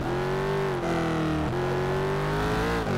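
A Corvette race car's engine in Need for Speed Shift 2 drones loud and steady at high revs, its pitch dipping briefly twice as it shifts or lifts off before climbing again, with a faint hint of tire scrub underneath.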